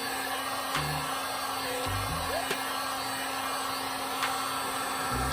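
A hot air blower heats the cold metal around a reflector on a 2020 Road Glide motorcycle outdoors. It makes a steady, close whooshing hiss throughout, with a few light clicks and knocks.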